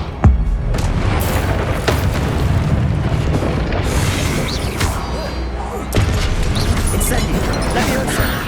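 Expelliarmus and Incendio spells cast during combat in Hogwarts Legacy, a video game, with booming magical impacts and a fiery rush over a dense battle rumble, a voice sounding among the blasts.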